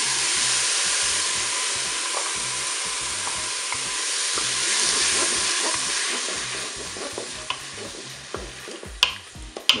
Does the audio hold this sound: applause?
no